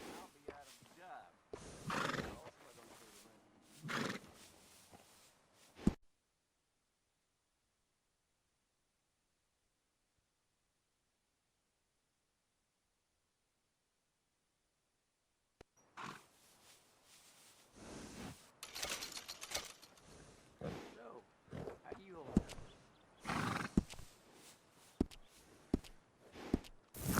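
In Red Dead Redemption 2, a horse whinnies and its hooves clip-clop, with bursts of neighing and stamping before and after a stretch of silence, and a voice speaking at times.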